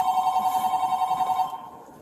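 Mobile phone tossed in during a police standoff rings with a rapid trilling electronic tone, repeating steadily for about a second and a half before cutting off, faint talk underneath.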